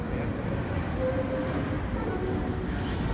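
Low, continuous rumble of a moving passenger train carriage in Denver, steady and enveloping, with faint mechanical hum and no clear voices.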